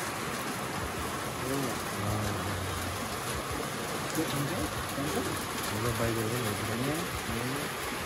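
Heavy rain pours steadily at Dhorpatan, a dense continuous hiss of drops on surfaces, with voices talking over it and faint bird calls in the background.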